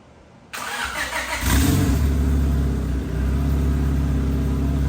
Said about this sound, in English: First hot start, fresh oil change.